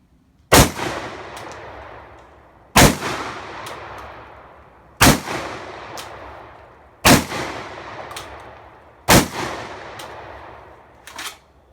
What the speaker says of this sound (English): Shotgun cycled just fine that time.